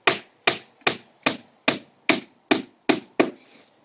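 Nails hammered into vinyl siding during a repair, left loose rather than driven tight: nine sharp evenly spaced taps, close and loud, with a brief ringing tone after a few strikes.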